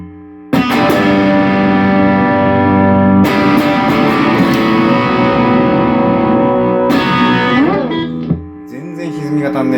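A Fender Mexican Telecaster played through a Marshall Shred Master distortion pedal: three loud, sustained distorted chords ring out one after another, and a pitch-bending phrase follows as the last chord fades.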